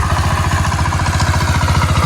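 A farm tractor engine runs steadily at a close, loud idle in a Konkan paddy field during transplanting, with a continuous low throbbing chug and faint clatter over the whole stretch.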